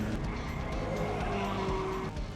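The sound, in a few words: race car losing control and skidding on the track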